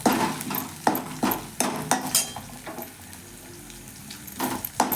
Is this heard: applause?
no